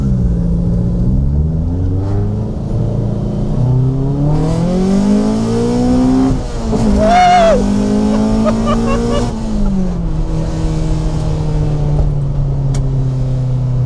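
A Honda Civic EE9 with a B16A VTEC engine revs up and down close by, its pitch climbing and falling in repeated sweeps with a sharp high-rev peak midway, a throaty steady drone throughout.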